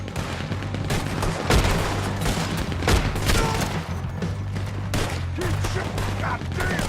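Heavy gunfire during a war-wagon fight in Red Dead Online, sustained volleys of loud cracks and booms with overlapping shots, and voices shouting faintly beneath the barrage.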